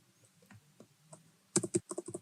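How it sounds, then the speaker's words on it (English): Computer keys pressed in a quick burst of sharp clicks while Excel shortcuts using Shift and the arrow keys are run; faint scattered taps come first, then a close, clear run of about eight rapid keystrokes. "We will press Shift plus navigation keys, 4 arrows on your keyboard"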